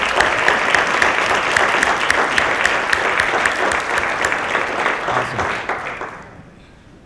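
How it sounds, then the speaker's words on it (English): Sustained applause from a large audience at a fitness business training event, dense clapping filling the hall for several seconds before tapering off at the end. "Give these guys a round of applause."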